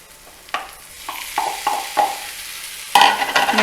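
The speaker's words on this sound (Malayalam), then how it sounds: "ഇനി നമുക്ക് വേവിച്ച് വെച്ചിരിക്കുന്ന ചേന ഇതിലേക്ക് ഇട്ട് കൊടുക്കാം" Cooked yam is stirred into a pan of fried onion and chilli. Spatula scrapes and stirs come at irregular intervals over a low sizzle, then a louder burst of frying near the end.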